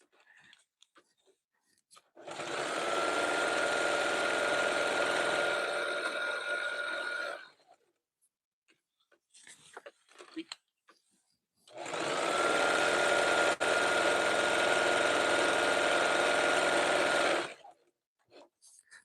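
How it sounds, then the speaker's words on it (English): A sewing machine stitching a jelly roll rug runs in two fast, steady bursts of about five seconds each, separated by a quiet pause, with faint handling noises between them. "This is the speed I will sew at when I'm not doing live videos too"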